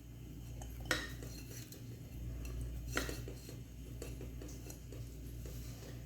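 Coarsely ground chana dal stirred into melted desi ghee in a pan on medium-low heat: a spoon scrapes and clinks steadily against the pan, with a couple of sharper knocks over a low background hum.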